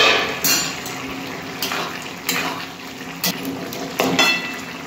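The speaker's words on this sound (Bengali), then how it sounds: "ঢাকাটা খুলে দেখি কত দূর সেদ্ধ হলো" A lid comes off a cooking pot of simmering bottle gourd for a fish-head ghonto, with several metallic clanks and clinks of cookware over a faint bubbling background.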